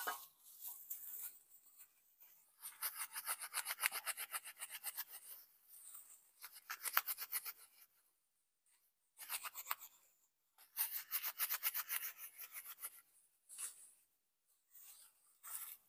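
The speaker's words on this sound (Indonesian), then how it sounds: "kita menyobek-nyobeknya saja begini menggunakan tangan sahabat kita sobek terus" Dry coconut husk is torn apart by hand to make cocopeat, making close, papery rasping and shredding bursts in uneven runs separated by brief quiet gaps, with no talking.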